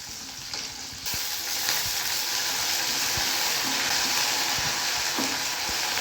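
Onions fry in a pan with fenugreek seeds and cumin for a sambar rice dish. A steady, close sizzle becomes louder after the first second, with occasional stirring clicks and no talking.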